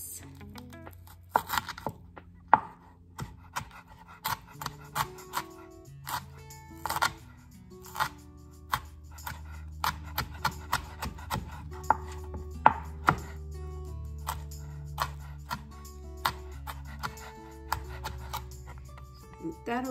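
A knife chopping and dicing a jalapeno on a cutting board, a quick irregular series of sharp close taps over a low background hum.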